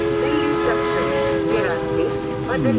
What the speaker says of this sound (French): Un train à vapeur.